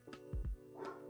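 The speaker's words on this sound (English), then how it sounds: "He's barking. Can you guys hear that?" A Doberman gives a couple of short, deep barks, heard faintly as if from another room.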